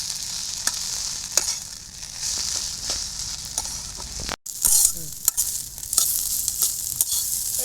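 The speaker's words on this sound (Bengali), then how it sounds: "আমার শাকটা প্রায় আমড়ে আছে, আর আমি কিছুটা আরেকটু আমড়াই নেবো।" Spinach-like greens stirred in a hot pan in a village-style kitchen, a steady close sizzle with scraping strokes of a spatula at irregular intervals and a brief gap midway.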